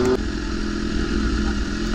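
BMW S1000RR sport bike under hard acceleration, a loud, sustained engine roar that holds steady after a brief opening tone, with no voices.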